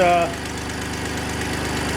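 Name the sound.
idling engine with an exhaust leak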